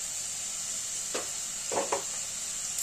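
Chopped onion, garlic, green chili and ginger frying in a pan, a steady close sizzling hiss broken by a few soft scraping stirs.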